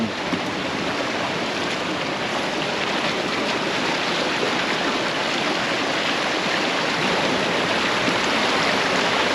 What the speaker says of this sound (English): Careful, it's strong, the river there, Poppy.